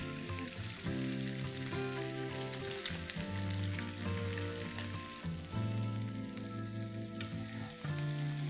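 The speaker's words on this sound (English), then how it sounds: "Let's fry the remaining slices." Pomfret fish slices frying in a pan crackle with a continuous, even sizzle, with tonal background music playing steadily underneath.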